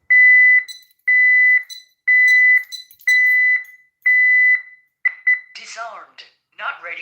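A home security keypad beeping at the front door, five loud, evenly spaced electronic tones followed by quicker short beeps and a voice briefly speaking.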